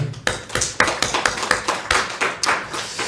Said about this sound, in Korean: 우리 예배를 받아주신 하나님 아버지께 영광의 박수 올려드립니다.